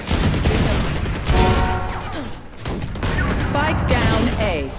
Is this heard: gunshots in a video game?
yes